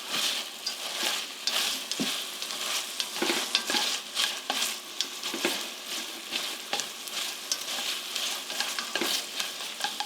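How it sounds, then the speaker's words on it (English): Chopped mushrooms and onion sizzle and crackle steadily in melted butter in a pan, with occasional stirring scrapes and no talking. "we're just going to let that warm up in our melted butter with our onion"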